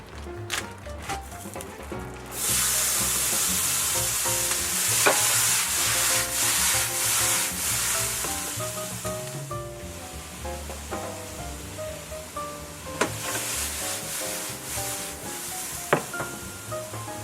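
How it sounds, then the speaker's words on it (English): Vegetables searing in a hot pan for a sweet potato hash, a steady loud sizzle with occasional clatters and scrapes as they are stirred. "I'm going to sear them in the same pan."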